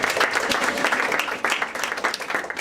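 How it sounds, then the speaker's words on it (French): A church congregation at a night prayer vigil claps and applauds continuously, a dense, loud, close wash of hand claps with a few voices mixed in. "Acclamons pour Jésus"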